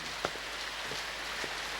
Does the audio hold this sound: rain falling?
yes